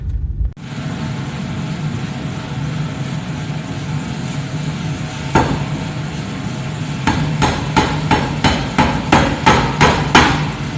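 Blacksmith's power hammer forging metal: after a steady mechanical hum, a single blow is followed by a rapid series of sharp, loud strikes in a quickening rhythm, close up.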